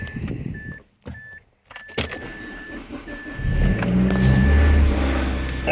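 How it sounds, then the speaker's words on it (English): A Mazda Protégé 5 being started, with key jangling and a warning chime, then the engine cranking and catching into a loud, steady idle close by. "So let me turn on the car."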